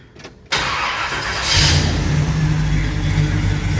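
Car engine on a California 91 vehicle after a carburetor swap, idle raised about 100 RPM; it catches abruptly after a quiet moment, then settles into a loud, steady, close idle with a rising drone partway through.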